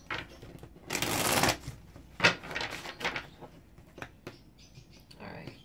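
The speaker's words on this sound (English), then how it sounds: "Two more shuffles." A deck of tarot cards is shuffled in a few quick riffling bursts with soft taps and slides between them, close and moderately loud, with no talk.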